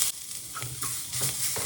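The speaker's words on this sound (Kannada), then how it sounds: "ಈರುಳ್ಳಿ ಸ್ವಲ್ಪ ಕಲರ್ ಚೇಂಜ್ ಆಗೋವರೆಗೂ ಕೂಡ ಹೀಗೆ ಹುರ್ಕೋತೀನಿ" Onions frying in a pan, giving a continuous close sizzle broken by a few stirring scrapes during a brief moment.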